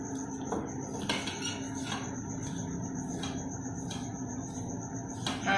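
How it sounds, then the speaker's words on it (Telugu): Egg bajji batter being stirred in a metal bowl, with steady scraping and repeated light clinks of a utensil against the sides, close and moderately loud over a constant background hum. "దీన్ని అంతా మిక్స్ చేసుకొని కలుపుకోవాలి ఇప్పుడు"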